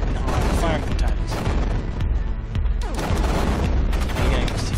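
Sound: gunfire in the video game Axiom Verge

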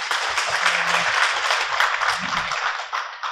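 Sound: conference audience applause

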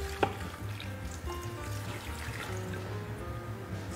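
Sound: pouring sauce over shrimp boil in an Instant Pot

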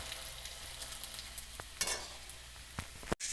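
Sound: puran poli flatbread roasting on a griddle

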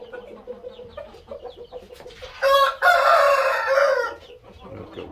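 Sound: roosters crowing and clucking in a coop

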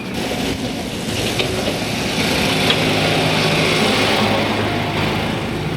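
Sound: tractor engine driving nearby

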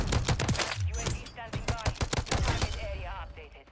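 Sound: gunfire in Modern Warfare 3 video game

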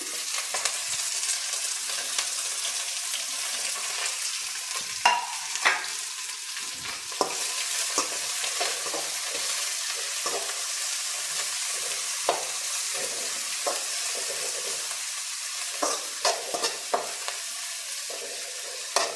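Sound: green beans stir-frying with garlic in tempering

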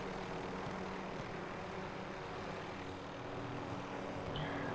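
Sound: helicopter hovering in the video game Warzone

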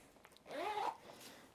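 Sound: zipper on GoreTex waterproof trousers

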